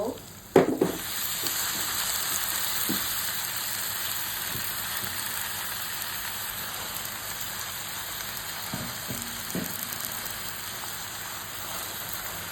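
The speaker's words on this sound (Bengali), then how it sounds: "এখন আমি পুঁই শাকগুলো দিয়ে দিব" Malabar spinach drops into a pan of frying hilsa fish curry with a sudden sharp crackle, followed by a steady, close sizzle and occasional light stirring knocks.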